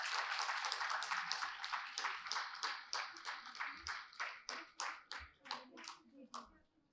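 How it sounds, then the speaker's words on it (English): Audience applause at a book launch: a crowd claps steadily and loudly, with dense overlapping hand claps that thin into fewer, more distinct claps toward the end. "Can we please have a huge round of applause as we launch the book?"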